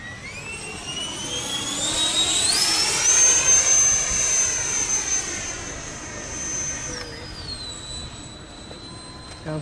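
Electric RC model L-39 jet with a 105mm ducted fan flying alone at a 4th of July field, a high whining fan tone sweeping up and down in pitch as it makes a fast pass and recedes.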